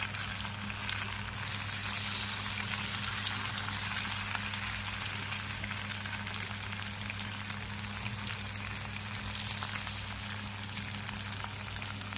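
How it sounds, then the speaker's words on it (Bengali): Paneer pieces frying in hot oil for chilli paneer, a steady, fairly quiet crackling sizzle that holds evenly throughout with a low hum underneath. "এখন একে একে আমি পনিরগুলোকে ছেড়ে দেব"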